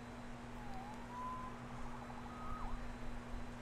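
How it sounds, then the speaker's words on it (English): Emergency siren in a Spider-Man video game, a faint wavering wail rising and falling a couple of times over a low steady hum, with no talking. "Saved by the siren."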